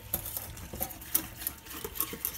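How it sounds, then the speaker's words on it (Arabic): A whisk beats a cup of milk into a gratin sauce in a pot, producing a rhythmic series of soft scraping, tapping strokes at close range with no talking. "نخلطو الكل بالفوي"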